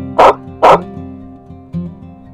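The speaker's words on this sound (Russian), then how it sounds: "Собака." A dog gives two sharp, loud barks in quick succession and then a softer third yelp, close and clear over a faint musical background.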